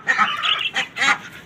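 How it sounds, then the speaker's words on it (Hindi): A loud, harsh rooster call rings out in two bursts, a close crowing cry, with no voices. "मुर्गा ही लग रहा है ये मुझे"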